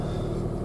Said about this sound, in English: that's the first time I've fired it up in the last couple of weeks and it hasn't gone rough